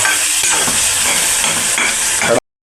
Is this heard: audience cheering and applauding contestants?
no